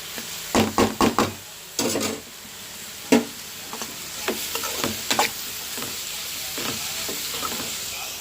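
Cabbage frying with turmeric and salt in a pan, a steady sizzle broken by several sharp knocks and scrapes of a spoon stirring against the pan, loudest early and then settling into a quieter continuous fry.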